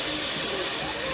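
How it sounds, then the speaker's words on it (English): Onions and peppers stir-fried in a pan for seafood boudin balls give a loud, steady broadband sizzle that hisses continuously through the short stretch. "This is me stir frying the veggies,"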